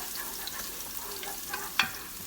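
Chopped onion caramelizing in a non-stick pan, a low steady sizzle with one brief scrape of stirring near the end, fairly quiet and close.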